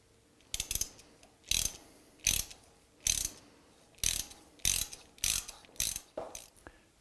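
An M6 x 1.0 bottom tap is worked into drilled holes for mounting a lathe scale, giving a series of about ten short, sharp ratcheting clicks and scrapes in an uneven rhythm, close and fairly loud with no talking.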